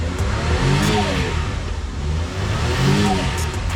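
A Suzuki Every Wagon turbo minivan engine runs steadily up close, its tone rising and falling twice as if revved, with a constant low rumble throughout.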